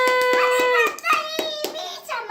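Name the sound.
applause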